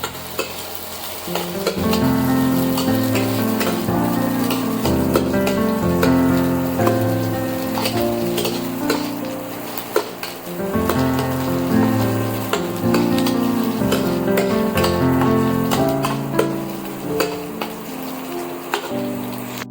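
Onion and chili paste fries in hot oil with a loud, continuous sizzle. Persistent spoon scraping and stirring clatter run through it, and a tonal hum or music sits underneath.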